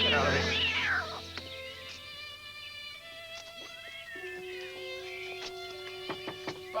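Two cats meow repeatedly indoors, a loud drawn-out yowl up close followed by shorter meows and cries, heard over soft background music.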